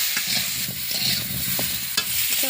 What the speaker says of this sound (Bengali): সে তেলে আলু আর ফুলকপিটা ভালো করে ভেজে নেব।